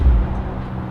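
A boosted, supercharged car engine passes by at a fuel station, a low rumbling drone that swells briefly and then holds steady at moderate loudness.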